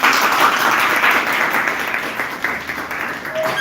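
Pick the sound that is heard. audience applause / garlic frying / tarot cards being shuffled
audience applause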